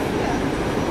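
A locomotive stands at a railway station, giving off a steady broadband rumble and hiss of engine and yard noise that stays continuous and fairly loud across the whole moment.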